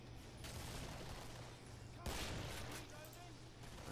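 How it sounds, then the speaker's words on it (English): Rifle gunfire in the Killing Floor video game, faint sustained rattling bursts with a sharper blast about halfway through, continuing steadily throughout. "I killed a big fat dude with one shot from a rifle."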